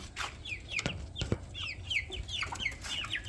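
Roosters in a new cage cluck and call repeatedly, several birds overlapping in short bursts, with sharp knocks and rustling nearby.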